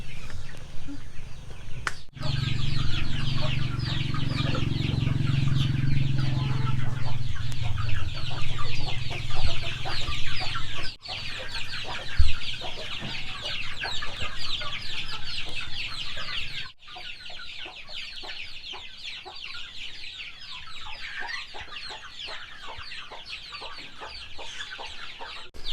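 Native chickens and a rooster on a provincial farm cluck steadily and continuously throughout, with a low hum from nearby activity underneath during the first part.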